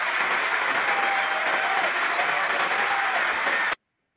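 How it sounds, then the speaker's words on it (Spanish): Members of the US Congress giving a dense, sustained round of applause, loud and steady before it cuts off abruptly. "Creo que interrumpieron a Netanyahu como 44 veces, ¿no? Para aplaudir."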